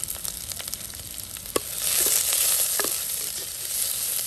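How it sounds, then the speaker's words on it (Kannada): Green chillies slit lengthwise, an inch of ginger and ten to twelve garlic cloves fry in a pan for a Mangalorean tomato saaru, with a steady close sizzle, one sharp click, then a louder, fuller hiss swelling midway, with no speech. "4 ಹಸಿಮೆಣಸಿನಕಾಯಿ ಉದ್ದಕ್ಕೆ ಕಟ್ ಮಾಡಿ ಹಾಕ್ತಾ ಇದ್ದೀನಿ. 1 ಇಂಚಷ್ಟು ಶುಂಠಿ, 10ರಿಂದ 12 ಎಸಳು ಬೆಳ್ಳುಳ್ಳಿ."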